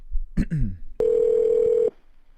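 After a short spoken word, a telephone emits a steady electronic tone lasting about a second once a call disconnects, loud and close, then cuts off into quiet.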